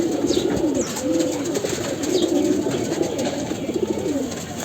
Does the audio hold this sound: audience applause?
no